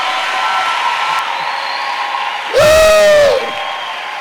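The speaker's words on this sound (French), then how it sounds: "Est-ce qu'on peut acclamer Jésus? Acclame très bien le roi." A church congregation cheers and applauds in acclaim during a worship service, a short loud burst of shouts and clapping near the end, with a preacher's voice and crowd murmur before it.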